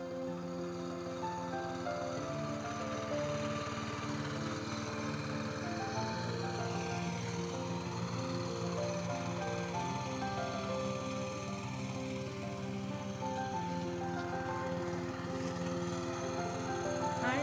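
A tractor engine running steadily while digging up a farm field, a continuous droning chug with shifting harmonic tones as the revs rise and fall, close and constant throughout.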